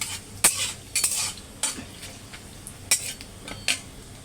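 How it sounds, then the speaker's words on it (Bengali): Crushed garlic stirred in hot mustard oil in a pan: sharp metal spoon clinks and scrapes come at irregular intervals over a soft, steady sizzle, with no talking. "এই যে রসুনগুলো থেতো করে রেখেছিলাম, রসুনগুলো এর মধ্যে দিয়ে দেবো।"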